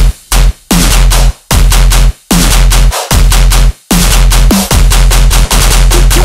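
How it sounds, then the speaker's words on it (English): Heavy tearout machine gun bass synth in a full mix, loud rapid-fire stuttering bursts chopped into short blocks with brief gaps between them, aggressive and distorted throughout, no voices. "We're coming with the machine gun bass."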